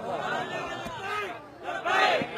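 Crowd chanting slogans in unison at a religious gathering, rising and falling bursts of massed voices in two waves, fairly loud and close.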